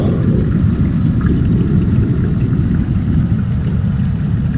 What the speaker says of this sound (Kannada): ದೊಡ್ಡ ದೊಡ್ಡ ಅಲೆ ಬರ್ತಾ ಇದೆ ಅನಿಸುತ್ತೆ ಅದಕ್ಕಾಗಿ ಈ ಥರ ಸೌಂಡ್ ಬರ್ತಾ ಇದೆ